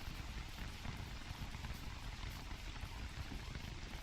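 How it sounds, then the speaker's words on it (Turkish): Steady rain pattering on an open umbrella in the survival game Don't Starve, a dense, even patter that runs without a break across the whole stretch at a constant moderate level. "Yani şemsiyenin üzerine düşen yağmur sesi oldu."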